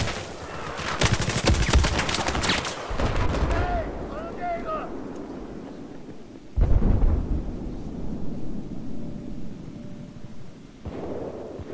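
Gunfire in the video game Battlefield 4, with dense bursts of shots around the first few seconds and a sharp loud blast near the middle, mixed with other game noise.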